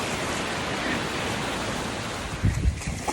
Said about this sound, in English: I'm walking in the water.